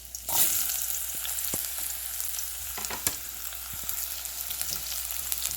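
Oil sizzles in a frying pan with a steady, close hiss and scattered crackles and pops throughout.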